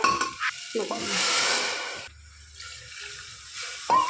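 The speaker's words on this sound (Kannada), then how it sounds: "ಚೆನ್ನಾಗಿ ಮಿಕ್ಸ್ ಮಾಡಿಕೊಂಡು ನೀರು ಹಾಕ್ಕೊಳ್ಳೋಣ ಸ್ವಲ್ಪ" Water pours into a pan of rice and carrot khichdi while it is being mixed: a rushing, splashing pour of about a second and a half, followed by quieter stirring and bubbling sounds.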